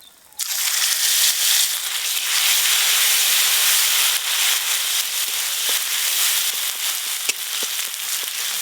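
Cumin and dried chili paste hit hot oil in a pan for a koi fish curry with taro, setting off a sudden, loud, sustained sizzle and hiss with scattered crackles and pops.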